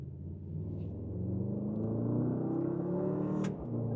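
A 2026 Mercedes GLS 63 AMG engine heard from inside the cabin with windows up, a muffled, steady low rumble swelling slightly under acceleration, with a brief faint click near the end.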